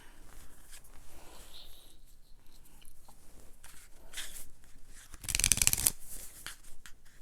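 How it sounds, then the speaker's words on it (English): Playing cards dealt during a game of Pairs give a short, crisp flurry of card sounds near the end, after a stretch of quiet handling noises. "So again, we'll deal out the cards."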